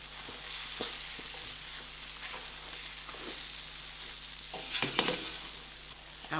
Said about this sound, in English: I will leave this to fry out for a few minutes. The rice is fried out.